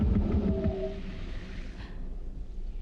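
A low, rough, raspy alien creature groan built from camel recordings rumbles for about two seconds, with breathy texture, then fades to faint background noise.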